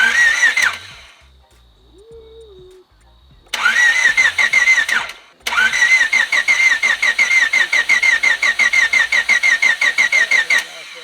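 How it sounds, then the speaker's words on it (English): A Honda Civic hatchback with a freshly swapped engine and manual transmission cranks over in three bursts: a short one, a longer one, then a sustained rhythmic starter churn that never catches, with quiet pauses between. "I turned it over for the first time, made sure it turned over."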